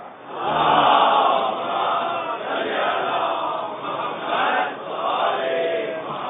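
A large crowd loudly recites salawat together in unison, a sustained chanting roar with rising and falling swells.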